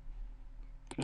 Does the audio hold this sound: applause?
no